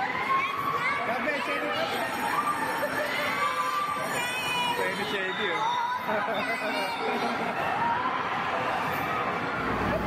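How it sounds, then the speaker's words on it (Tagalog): A crowd of riders on a moving amusement ride at Star City yells and screams continuously, mixed with chatter and excited voices, dense and close throughout. "Mukhang marami nag-i-enjoy dahil sa mga sigawan."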